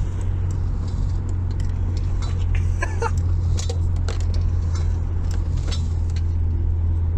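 An Audi A6 C4 sedan on very old tires pulls from low revs in third gear, with a steady, deep engine drone from inside the car and scattered small clicks and rattles over it.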